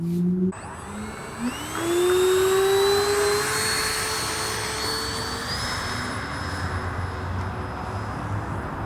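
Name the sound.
E-Flite Habu STS RC jet taking off from grass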